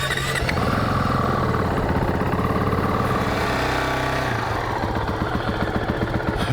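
A 2019 Honda CRF450X dirt bike engine idles steadily and close by, a low, even rumble holding throughout with a slight pulse in its rhythm.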